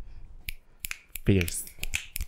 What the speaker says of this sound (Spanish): Aplausos de poema.